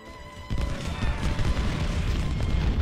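Massed gunfire and artillery fire in the Civil War battle game Ultimate General Civil War: a sudden heavy boom opens a dense, rolling roar of musketry and cannon blasts, loud and continuous.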